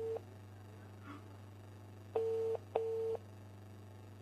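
A telephone ring tone sounds in two short steady bursts, separated by a brief pause, over a low constant hum.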